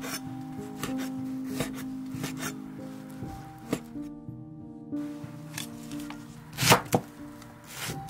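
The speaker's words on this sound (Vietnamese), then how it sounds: "Lạp xưởng thì mình cắt mỏng để cuộn chung nè." A knife slices Chinese sausage thinly on a cutting board, making a run of soft, irregular taps and scrapes close by over a faint steady hum.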